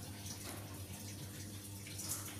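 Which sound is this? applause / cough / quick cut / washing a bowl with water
washing a bowl with water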